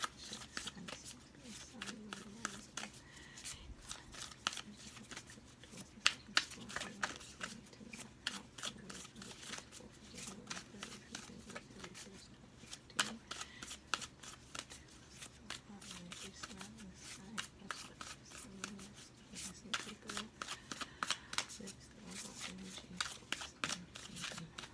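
Tarot cards being shuffled by hand during a reading, a quiet run of rapid riffling and flicking clicks that continues throughout, with a voice talking over the shuffling.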